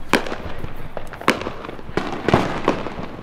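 Consumer fireworks set off in the United States crack and pop in several sharp bursts, loud and close, with crackling between them.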